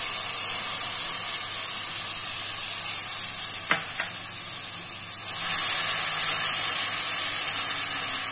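Mustard paste sizzles steadily in hot oil in a pan for oal (elephant foot yam) curry, a loud, continuous close hiss with a brief stir or clink midway and no talk.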